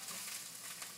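Kale sautéing in a pan gives off a steady, close, dense sizzle with soft crackling, heard alone.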